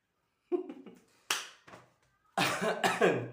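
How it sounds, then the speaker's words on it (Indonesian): Several sharp coughs, a short group first and then louder, harsher bursts, close by with quiet gaps between them. "Batuk-batuk."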